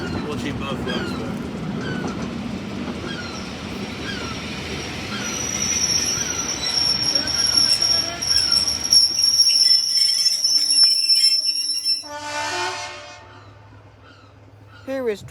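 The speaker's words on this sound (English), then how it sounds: "Here is 25185 leaving Willerton on the second train of the day heading towards Minehead" Class 25 diesel locomotive 25185 pulls out of Williton station on the West Somerset Railway, its wheels squealing shrilly over a rumbling engine and carriages. Near the end a loud horn blast sounds, then the noise dies away.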